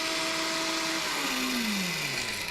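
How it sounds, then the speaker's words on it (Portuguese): A kitchen blender runs loud and steady with a broad whirring roar, and its motor pitch slides lower as it works. It fills the whole moment with no talking. "eu vou ligar o liquidificador e vocês em casa vão ver como fica difícil até a nossa conversa"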